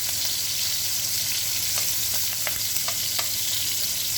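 Large shrimp sizzling steadily in a hot pan for Chinese shrimp lo mein, a dense continuous frying hiss with a few small pops and pan clicks, close and alone with no talking.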